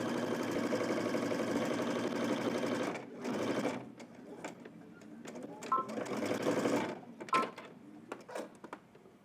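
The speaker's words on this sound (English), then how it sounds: "we're going to head to the machine. We're going to stitch that 1/2 inch fold up." A sewing machine stitches a half-inch fold and seam in short bursts, running steadily for a few seconds, pausing, then restarting in quicker spurts with clicks between, fairly quiet and close.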